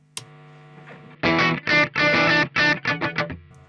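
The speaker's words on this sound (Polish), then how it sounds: "zaczynamy dosyć mocno przesterowywać wejścia już nawet" Overdriven, distorted electric guitar played through a Warm Audio WA-C1 chorus vibrato pedal with its inputs pushed hard, a few loud chords in bursts after a faint pick noise, then a short choppy run of strums.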